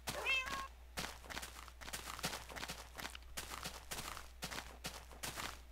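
A cat meows in a survival video game, a short high mew at the start, followed by a steady run of soft repeated footsteps, faint overall and with no talking.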